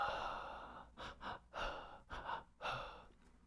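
Soft breaths and gasps come in a short uneven series of quick inhales and exhales, close and quiet, with no speech.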